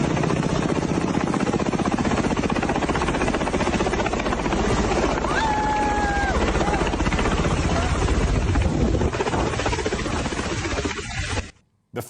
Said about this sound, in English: what happened when a Russian helicopter flew over a packed tourist beach